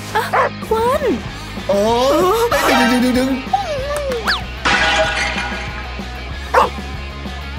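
A small dog barks and yips several times in short bursts, with whimpering pitch glides, close and loud, mixed with people talking and a clattering crash in between.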